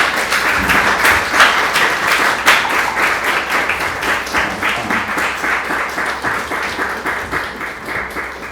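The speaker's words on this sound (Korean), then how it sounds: "박수로 우리 좀 격려해주면 좋을 것 같습니다." Sustained, steady applause from a church congregation at a youth Sunday service, dense clapping holding for several seconds and tapering slightly near the end, with no talk over it.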